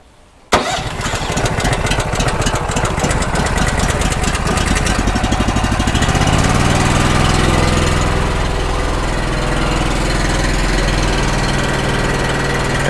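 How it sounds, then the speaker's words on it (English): A log loader trailer's small engine starts with the choke on, cranking briefly before catching and settling into a loud, steady idle that smooths out as it runs. "Go ahead and fire this up and turn our choke on."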